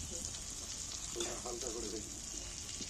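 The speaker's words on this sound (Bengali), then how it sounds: "টমেটোটা গলে যাবে দিলে এগুলো আমি একটু ভেজে নিচ্ছি" Green chillies and tomato frying in a pan give a continuous close hiss of sizzling oil, with a faint voice briefly murmuring underneath.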